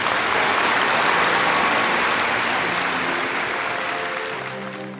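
Sustained applause from an audience at a school board meeting, steady and dense clapping that fills the room and slowly fades toward the end.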